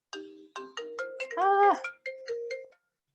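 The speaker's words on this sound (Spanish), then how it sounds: "Ay, perdón, está sonando mi teléfono." A mobile phone ringtone chimes in a quick melodic run of bright electronic tones, repeating in a short phrase, clear and close in a quiet room.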